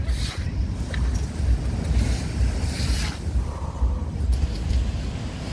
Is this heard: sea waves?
yes